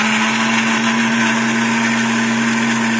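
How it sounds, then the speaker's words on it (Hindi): Kitchen mixer grinder running with green coriander-mint chutney and a little water, a loud steady whirring motor drone with a fixed pitch and constant churning noise throughout. "हल्का सा पानी डालकर इसे जो है मिक्सी पर चलाया जा रहा है, और ये मिक्सी पर चला जा रहा है।"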